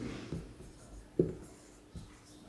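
Pen or chalk writing a math expression during an integration lesson, soft scratchy strokes with a few sharper taps, quiet and close, no voices over it.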